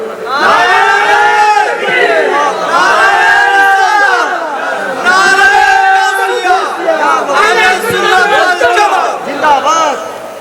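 Crowd of students chanting a slogan in unison, loud rhythmic shouted phrases repeating in waves with brief pauses between, close and filling the space.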